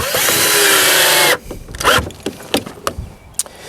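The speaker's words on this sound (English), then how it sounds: "I'm attaching the bottom of the post to that anchoring bracket." A power drill whirs loudly for just over a second while fastening the bottom of a deck post to its anchoring bracket, then stops, followed by scattered knocks and handling noises.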